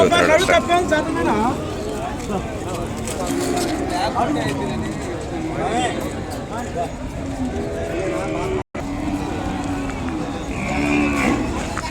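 Ongole calves low now and then amid the busy hubbub of a Kodada cattle market, with hoof clatter. Someone talks steadily over the mooing and the crowd babble.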